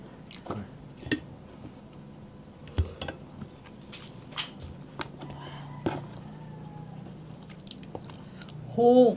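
Crispy lechon kawali and boiled seafood are chewed up close at a family meal, soft intermittent bites and crunches scattered over quiet room noise, with a brief louder burst near the end.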